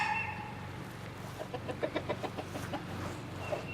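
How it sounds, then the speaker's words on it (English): Chickens in backyard pens behind a house, a flock of about 30, clucking in a short burst of rhythmic calls, moderately close over a faint outdoor background, with no talk. "There's my chicken pens."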